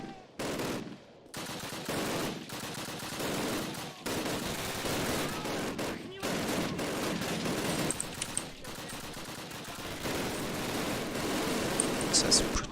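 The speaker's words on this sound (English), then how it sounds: "We don't have to do anything but shoot enemies." Rapid automatic gunfire from the Call of Duty video game rattles almost nonstop across a shooting range sequence, with bursts broken by brief gaps and a few sharper reports near the end.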